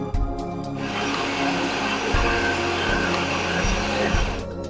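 An electric grinder whirs steadily while blending coriander, garlic and ginger into a paste, a loud continuous motor drone with rattling grit that starts abruptly and winds down at the end.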